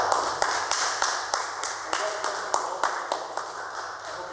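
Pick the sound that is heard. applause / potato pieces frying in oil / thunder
applause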